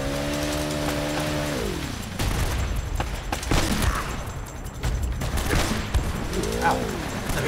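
Enemy gunfire in the Uncharted video game during a car chase, a few sharp bursts and crackling shots scattered over a droning engine, with pitch-shifting mechanical whines rising and falling alongside.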